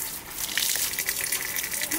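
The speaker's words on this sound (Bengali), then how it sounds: "চালটাকে ভালো করে ধুয়ে নিই" Rice for chicken dum biryani is washed under running water, a brief continuous gush and splash close by.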